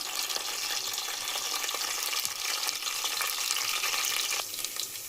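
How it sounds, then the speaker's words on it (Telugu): Dried red chillies, curry leaves and onion pieces frying in oil in a pan for tomato chutney, giving a loud, continuous, close hissing sizzle with slight crackle and stirring, no talk. "ఇవి కొంచెం ఫ్రై అవ్వనివ్వాలి"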